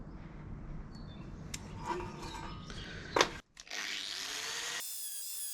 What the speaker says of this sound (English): You really have to take your time and be really gentle with the grinder.